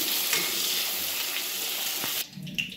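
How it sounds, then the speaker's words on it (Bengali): Eggs coated in turmeric frying in oil in a kadai, a steady loud sizzle with light stirring that cuts off abruptly near the end, leaving faint kitchen noise. "তেলে কড়াইতে ফ্রাই করে নিচ্ছি।"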